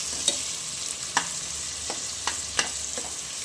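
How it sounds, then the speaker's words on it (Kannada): Onions sautéing in a pan hiss steadily up close, punctuated by a few light stirring scrapes and taps every second or so, with no one speaking. "ಈರುಳ್ಳಿ ಸ್ವಲ್ಪ ಚೆನ್ನಾಗಿ ಬಾಡಲಿ"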